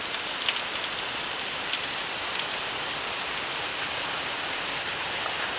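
Heavy rain pours steadily on a rainy day, a dense, constant hiss of drops striking surfaces close by, with no break or variation across the stretch.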